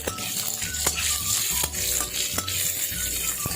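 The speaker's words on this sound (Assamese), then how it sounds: "এতিয়া ইয়াত পিঁয়াজখিনি এড কৰি দিছোঁ আৰু পিঁয়াজখিনিও চেম গোল্ডেন কালাৰ হোৱালৈ ভাজি।" Onions sizzle steadily in a hot pan, a constant crackling hiss with occasional scrapes and taps of a spoon stirring.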